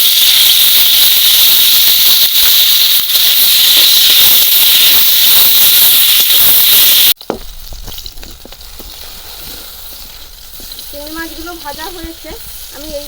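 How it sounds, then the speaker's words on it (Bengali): Shrimp frying in oil in a wok in a village kitchen, a loud steady sizzle for several seconds that suddenly drops to a quieter crackle with faint chirps and background sounds. "কড়াইতে দিয়ে দিলাম তেল তাল কুমড়োর মধ্যে আমি যতটা চিংড়ি দেবো সেই চিংড়িগুলোই ভাজছি"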